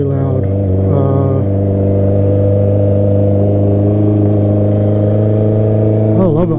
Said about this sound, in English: So as you can hear, when the bike is cold, it's like really loud.